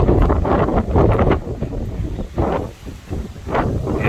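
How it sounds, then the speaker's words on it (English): Strong outdoor wind buffets the microphone with loud, gusting rumbles that rise and fall throughout, during car detailing. "It's really windy out here"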